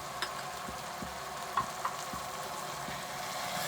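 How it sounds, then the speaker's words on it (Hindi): Tomatoes, garlic, ginger, salt, crushed chillies, turmeric and other spices fry in a pan with a soft, steady sizzle and a few faint stirring clicks, heard alone without talk. "तमाम मसालों को 1 से 2 मिनट तक अच्छी तरह भून लेते हैं।"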